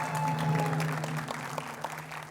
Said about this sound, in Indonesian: Tepuk tangan untuk Sarah Handayani